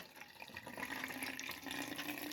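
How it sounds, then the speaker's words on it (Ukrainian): Salt brine of water and table salt poured over tomatoes, a faint, steady trickling and splashing of liquid that runs continuously for a couple of seconds. "І заливаю помідори."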